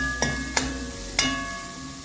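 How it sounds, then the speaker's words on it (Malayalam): Onion, garlic, ginger, green chili and curry leaves fry in a pan with a steady sizzle, broken by three sharp taps or stirring clinks of a utensil. "നമ്മളെ ഉള്ളി, വെളുത്തുള്ളി, ഇഞ്ചി, പച്ചമുളക്, കറിവേപ്പില നല്ലോണം ഫ്രൈ ആയിട്ടുണ്ട്"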